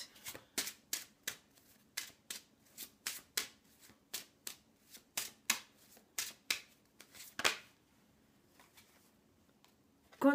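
Playing cards being shuffled and drawn at close range: a quick, regular run of crisp riffling flicks and snaps that slows and thins out toward the end.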